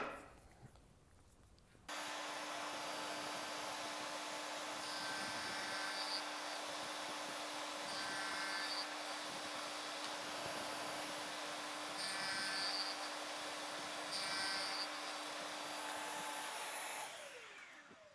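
Table saw fitted with a stacked dado set cutting tenons in wood, a steady loud whine running for about fifteen seconds with slight variations as the workpiece feeds through, then spinning down near the end.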